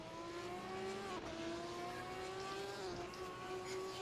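Sim racing cars, Ferraris among them, lapping the Kyalami circuit in a race: a steady, loud engine drone with shifting pitch and overlapping tones, sustained throughout without talk.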